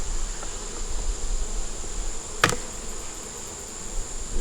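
Honey bees buzzing steadily in and around an opened hive, with no small hive beetles, while a beekeeper inspects it outdoors, with a soft continuous hum, a single sharp knock partway through, and no talking.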